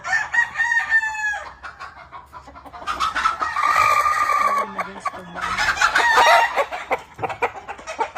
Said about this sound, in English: Beautiful rooster.